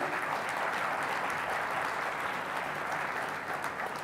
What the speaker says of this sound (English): I thought the applause could be bigger for what he has achieved.